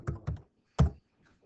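Keys tapped on a computer keyboard, two quick clicks followed by a firmer single press of the enter key, close and clear against a quiet room.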